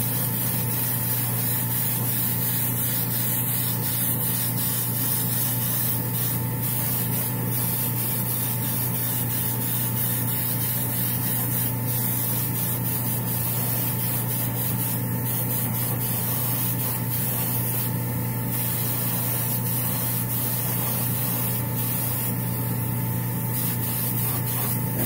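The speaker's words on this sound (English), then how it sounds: "I gotta spray it from all angles to make sure I get the primer everywhere" An airbrush with its pressure turned up hisses continuously while spraying primer over a heavily textured Batman sign, producing a steady, close, loud spray with a constant underlying hum.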